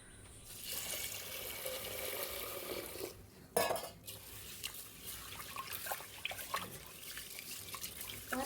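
Mixed grains swished and washed in water inside a pressure cooker pot, with steady sloshing and running water, a sharp clank partway through, then lighter irregular stirring splashes.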